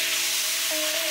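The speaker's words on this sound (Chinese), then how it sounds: "下姜蒜泥、花椒一起爆出香味" Ginger garlic paste and Sichuan peppercorns hitting hot oil in a wok while cooking Chongqing-style beef tongue, a loud, continuous close hiss of sizzling with no speech.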